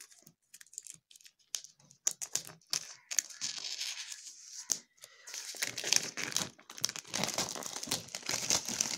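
Plastic packaging wrapped around a study book is cut and pulled open, giving bursts of crinkling and tearing with brief pauses between them, close to the listener and with no speech.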